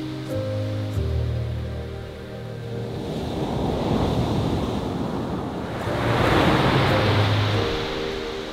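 Sea waves breaking on a beach below cliffs on the Jurassic Coast of Dorset, a continuous surging roar that swells and recedes with wind buffeting the microphone, faint engine hum early on.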